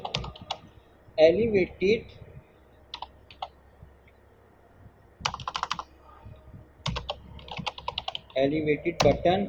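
Someone types code into a Flutter app on a computer keyboard in rapid clusters of close, crisp keystrokes, with pauses in between while someone talks.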